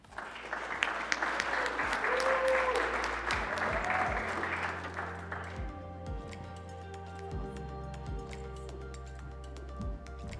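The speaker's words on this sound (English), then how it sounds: "Please give a round of applause" Audience applause at a sales and marketing awards event, a dense burst of clapping that swells, then fades out after about five seconds, leaving a quiet room with some faint tones.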